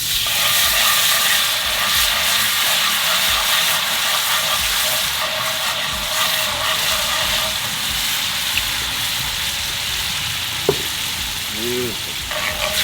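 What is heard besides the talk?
white wine deglazing a hot pan, sizzling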